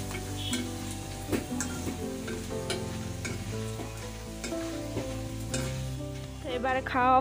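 ACI Fun Fresh Fry chips sizzle steadily in a pan of hot oil, with occasional stirring clinks and scrapes throughout, close and fairly loud.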